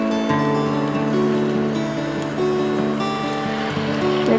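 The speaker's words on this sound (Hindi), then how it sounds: "पानी ऐड करते हैं सालन बनाने के लिए" Water poured into a pan of sizzling potato and egg curry (aloo anda masala), a loud steady rushing hiss with bubbling that continues throughout, close up.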